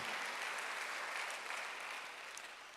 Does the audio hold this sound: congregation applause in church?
yes